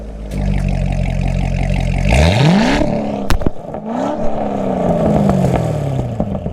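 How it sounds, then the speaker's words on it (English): A Corvette with the NPP factory dual-mode exhaust idles with a deep rumble, then revs up sharply several times, loud and close, each blip rising and falling back. "how to make your Corvette go from sounding like this to sounding like this"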